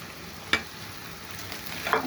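Shredded cooked meat hits a pan of lightly fried onions for meat noodles, giving a quiet, steady sizzle broken by two brief stirring scrapes.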